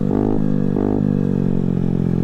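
A scooter engine runs loud and close with a heavy vibrating drone, its pitch dipping and rising in two short surges before settling into a steady buzzing hum.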